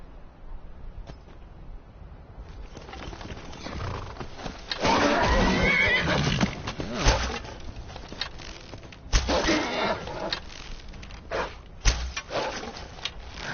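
A horse neighs and whinnies in the video game Skyrim, a loud, close call that rises and trails off, with hoof clops and other game noises around it and no speech.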